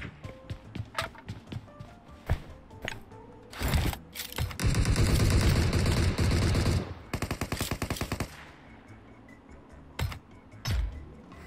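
Bursts of rapid gunfire from a solo-versus-squad shooter match against bots, including long automatic volleys and scattered single shots, loud and close with no talking.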